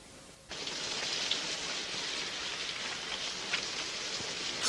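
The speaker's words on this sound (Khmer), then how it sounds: "ធ្លាក់ភ្លៀងធ្លាក់ខ្យល់បែបនេះ" Steady, dense rain pours down with wind, a constant hiss that starts abruptly and holds loud and even, with no voices over it.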